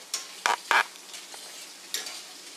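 Onions frying in a home kitchen pan while a utensil stirs them. A few sharp scraping strokes come in quick bursts over a faint, steady sizzle, with no talking.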